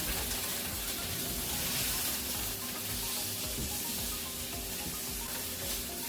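Noodles sizzle and crackle steadily in a hot frying pan, a close, continuous hiss with faint stirring, no voices.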